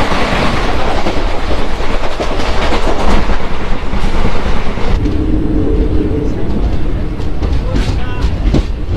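A Kolkata–Digha passenger train rolling along the tracks between Mecheda and Tamluk, heard from on board as a loud, steady rumble with rhythmic clickety-clack wheel beats.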